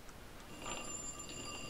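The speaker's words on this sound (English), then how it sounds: "Phone." Faint electronic phone ring in the Pokemon Sweet Revamped video game, a thin warbling tone repeating a few times at low level with no talk over it.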